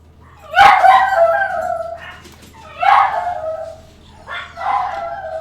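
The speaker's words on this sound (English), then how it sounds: "sorry for the dogs in the background." Dogs bark and yelp in three loud, drawn-out bursts a couple of seconds apart, whiny and howl-like, close by with a low steady hum underneath.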